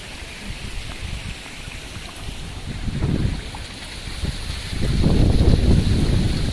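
Gusty typhoon wind roars against the microphone with a rushing, watery wash of driving rain, swelling in stronger blasts near the middle and again toward the end, in Hong Kong.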